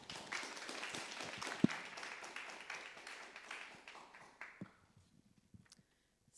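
An audience at an art museum panel discussion claps for several seconds, a steady roomful of applause that thins out and fades to a few last claps and near silence.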